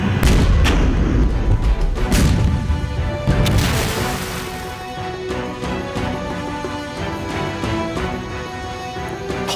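Artillery and vehicle-mounted guns fire in a blocking barrage across a river in a Chinese war film, with heavy booms and crashing blasts that are loudest early and then a dense, continuous rumble of distant fire.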